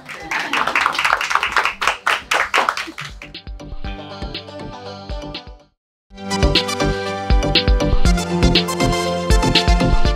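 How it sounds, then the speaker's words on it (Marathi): A few seconds of close, crisp clapping welcome actor Ashok Saraf to a Marathi talk show, then the claps give way to a brief silence and upbeat music. "तुमच्यासाठी मी टाळ्या वाजवतो."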